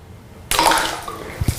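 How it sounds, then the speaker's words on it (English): An object dropped into water for a splash photography test lands with one sudden loud splash, followed by a fading wash of churning water and a couple of brief low thumps near the end. "Okay, we got some splash."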